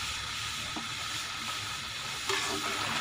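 Mash and chana dal sizzling and hissing in a pan after water is added, a constant soft frying hiss with a slight stirring scrape, close and fairly quiet.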